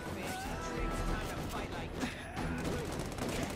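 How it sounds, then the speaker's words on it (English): Constant gunfire in The Amazing Spider-Man 2 video game, a dense continuous barrage of rapid shots and crashes with vehicles blowing up, loud and unbroken throughout under game noise. "Man, the gunfire is just so constant."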